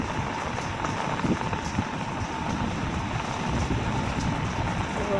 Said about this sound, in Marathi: बघा पाण्याचा प्रवाह किती आहे